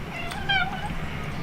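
A wet cat, just out of a fish pond, gives a short close meow in the middle, over a low background hum.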